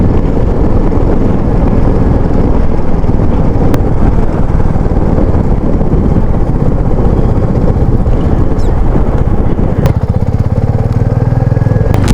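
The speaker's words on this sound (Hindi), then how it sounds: "और यहाँ हवा की बात करूँ तो बहुत ही तेज़ हवा चल रही है।" Very strong mountain wind on the road from Kaza to Losar roars steadily and loudly against the microphone, with brief clicks and a faint low hum late on.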